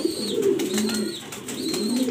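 Pigeons coo repeatedly up close, a low, throaty, rolling call returning in steady waves with no talking.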